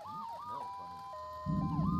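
A wailing ambulance siren in the video game GTA 3 rises and falls in a loud, close sweep, then holds a steady tone as a rumbling engine-like noise swells underneath.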